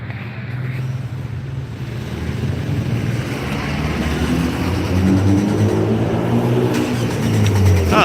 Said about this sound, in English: Ah, Mitsubishi Lancer.